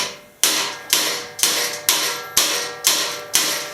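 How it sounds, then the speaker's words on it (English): Seven sharp metallic hammer strikes from a ball-peen hammer rounding over metal tube ends for a minibike frame, at a steady, unhurried pace, each ringing briefly before the next, close and loud with no talking. "I'm tapping on these ends like this"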